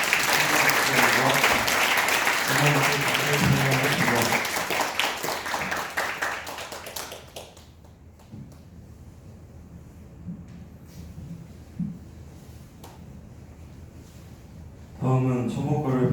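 A congregation at a Buddhist temple's year-end service bursts into loud, sustained applause that fades after several seconds, followed by quieter room sound and someone speaking into a microphone.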